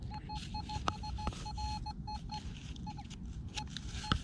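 A metal detector used at a lake gives a string of short, faint electronic beeps in an uneven rhythm, with a few sharper clicks over low background noise.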